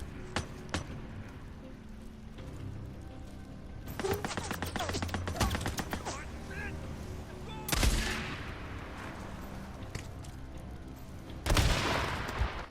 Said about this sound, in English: A lot of misses on that sniper.